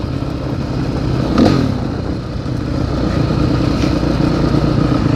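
A new Sherco 250i motorcycle that has developed a problem runs with a loud, steady engine drone close by, with one brief clattering swell partway through.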